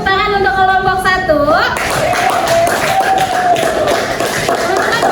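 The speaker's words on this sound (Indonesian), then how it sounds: "Oke, tepuk tangan untuk kelompok 1." Group applause in a classroom, clapping from many hands building after a spoken announcement, with tonal sounds and chatter mixed underneath.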